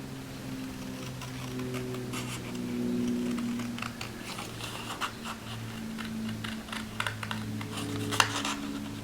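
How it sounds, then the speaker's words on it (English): Scissors fussy-cut paper for a card box craft project, with a string of quick, light snips and crisp clicks close up over a faint background hum. "I'm going to go ahead and fussy cut this."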